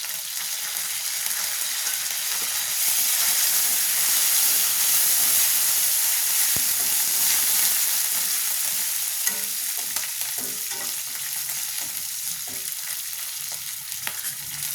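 Green and dried chillies and curry leaves fry in hot oil in a pan, a loud, close, steady hissing sizzle that swells and then settles, with a few faint stirring knocks near the end and no talking.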